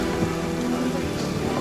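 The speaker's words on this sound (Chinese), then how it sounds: "小子，下雨了，准备撤了" Steady rain hisses across an outdoor scene in a historical costume drama, an even wash of falling water under a soft musical backdrop.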